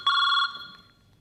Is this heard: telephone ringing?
yes